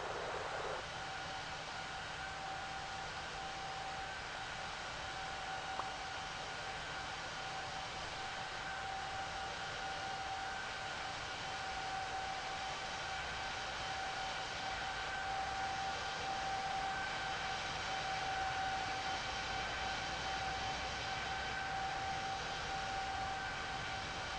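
An airliner takes off in World of Airports with a steady, continuous jet-engine roar and a high tonal whine that hold for the whole stretch, with no break and no voices over it.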